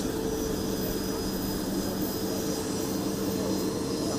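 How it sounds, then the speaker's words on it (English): Jet airplane engines hold a steady, loud whining drone as the plane comes to a stop after taxiing, with a constant high tone and no change in level. "The traffic controller signaled for the plane to stop. The plane has finally stopped."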